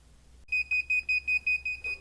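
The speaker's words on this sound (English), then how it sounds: "This will beep when it's finished." A heat press used for sublimation printing on coasters gives a run of about eight evenly spaced, high electronic beeps when finished, clear and close, after a brief low hum.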